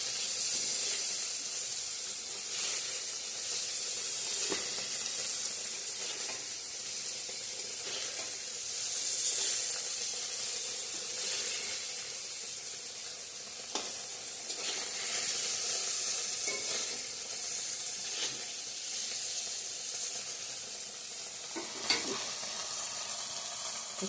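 Paneer frying in oil in a pan produces a continuous close hissing sizzle with occasional soft stirring knocks, steady throughout and with no one speaking.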